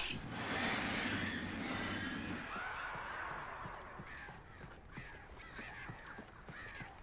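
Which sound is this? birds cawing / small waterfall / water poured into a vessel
birds cawing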